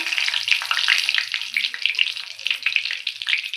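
Whole cumin seeds, dried red chilies and bay leaves sizzle steadily in hot mustard oil, a dense, close crackle and hiss that runs without pause and with no voices.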